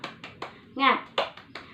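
Children in a classroom do a clapping chant, with sharp evenly spaced claps mixed with short shouted syllables, close and lively over less than two seconds.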